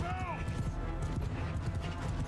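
Cavalry horses in Mount & Blade II: Bannerlord drum a steady, dense clip-clop of hooves, mixed with battle noise and talk over the top.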